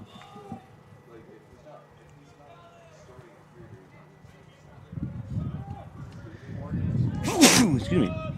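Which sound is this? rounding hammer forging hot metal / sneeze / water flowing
sneeze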